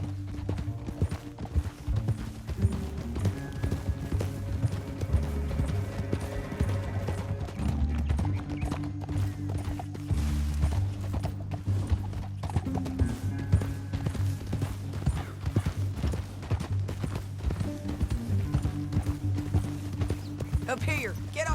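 Horses' hooves pounding at a gallop in Red Dead Redemption 2, a continuous drumming clip-clop under deep rumbling score and game sound, with a horse neighing at points and voices talking.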